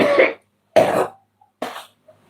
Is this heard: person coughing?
yes